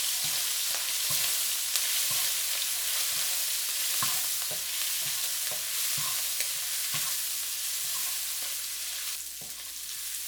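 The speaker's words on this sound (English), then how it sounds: "There we go. Stir them all around." Ground beef seasoned with black pepper frying in a pan while being stirred, a steady hiss of sizzling with regular scraping strokes of the utensil, close and moderately loud, no voices.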